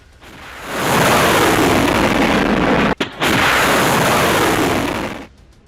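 Missile explosions in central Israel make a loud, sustained roaring blast of broadband noise that breaks off for a split second, resumes and then cuts away.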